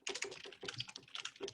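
Rapid, close keyboard typing, a dense flurry of crisp key clicks in uneven clusters with brief pauses, fairly quiet overall and with no talking.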